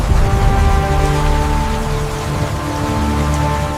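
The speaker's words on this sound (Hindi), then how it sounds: "बारिश फिर लौट रही है" Rain falls steadily over Amazon rainforest, a dense, continuous wash of drops on surfaces with no voices, holding a fairly even level throughout.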